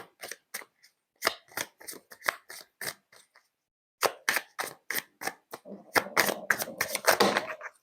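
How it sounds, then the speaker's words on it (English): Tarot cards riffling and slapping during a shuffle, a burst of rapid papery clicks, a pause, then a longer flurry of cards scattering and fluttering out of the deck, close and crisp. "Oh my God, half the deck just flew away."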